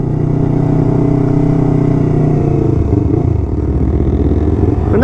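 Motorcycle engine laboring on a rough, rocky off-road trail in Mindanao, a loud continuous low drone with shifting pitch and rattling, recorded up close without talking.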